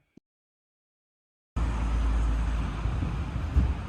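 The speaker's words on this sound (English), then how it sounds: "It's a pretty windy sort of a day in a pretty place." Strong, steady wind buffeting the microphone with a low roar, starting abruptly after a brief click and near silence, continuing loud to the end.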